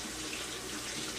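Tap water runs steadily into a sink as celery stalks are rinsed clean of grit and sand, a continuous close splashing hiss with no voices.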